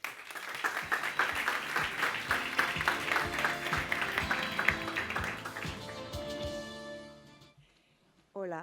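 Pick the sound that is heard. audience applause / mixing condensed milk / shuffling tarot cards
audience applause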